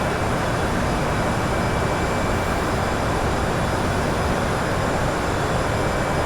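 An Endeavor Air airliner in flight fills the cabin with a steady, dense engine roar and airflow hiss, unbroken and constant throughout.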